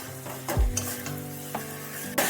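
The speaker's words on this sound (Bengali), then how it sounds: "ভালোভাবে একটু নেড়ে চেড়ে নিয়ে খুব ভালো করে কষিয়ে নিতে হবে।" Chicken with jaggery sautéed and stirred in a pan, a spatula scraping and knocking against the metal over a soft sizzle, close by with no talking.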